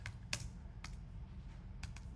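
Keys clacking on a computer keyboard in a few separate bursts, close and moderately quiet, over a steady low hum.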